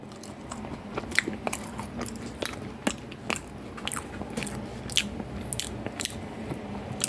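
Close, crisp bites and crunchy chewing of a hot toasted potato waffle, a steady run of sharp crunches repeating every half second or so, with no talk.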